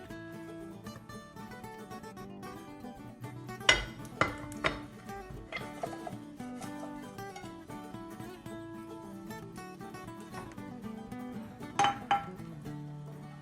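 A metal frying pan clanks and clinks several times against a stovetop while frying künefe, scattered knocks over a low kitchen background, no talking.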